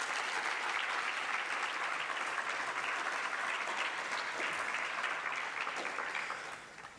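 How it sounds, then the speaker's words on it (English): Audience applause fills a graduation ceremony for a cybersecurity and cyberintelligence program, a steady dense clapping from a large crowd that holds for about seven seconds before tapering off at the end. "An applause for them as well."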